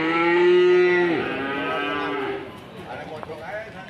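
At the Ambarketawang cattle market in Gamping, Sleman, a cow gives one long, close, loud moo that bends downward partway through and then trails off into quieter market background.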